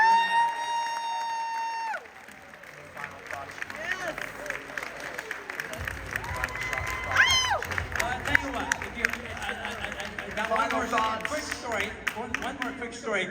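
An audience at a talk on Kamut grain history gives a round of applause, a scattered patter of clapping heard under and between voices and music-like tones, moderately loud and fairly brief.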